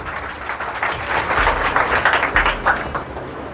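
A seminar audience claps for two participants, a dense burst of applause from a crowd indoors that swells slightly and holds steady for a few seconds, with no talking over it.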